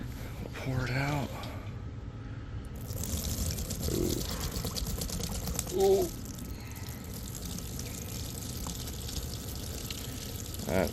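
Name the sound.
gasoline being poured out of a Honda Elite CH80 scooter tank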